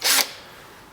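A power drill boring a pilot hole with a 1/16 inch bit into a Honda S2000 trunk lid for a wing install, heard as one short, close burst of whirring and grinding that stops abruptly after a fraction of a second.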